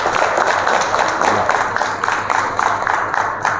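Audience applause breaks out as thanks for a guest at a social gathering, a dense, steady wash of many hands clapping at close range throughout, with no voices over it.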